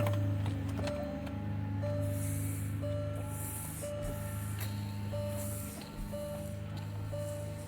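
A Porsche windshield washer pump sprays in short repeated bursts of hissing spray at steady intervals over a low mechanical hum, close and fairly quiet.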